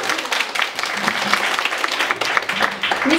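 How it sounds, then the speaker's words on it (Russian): An audience at a bookstore talk applauds a guest author, dense continuous clapping from a seated crowd filling the room for a few seconds, loud and close. "Ваши аплодисменты"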